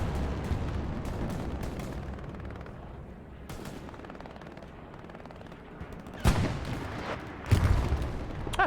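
Battlefield combat in Hell Let Loose, a World War II shooter: a continuous rumble of distant gunfire and artillery, with sharp, louder shots and blasts cracking out near the end.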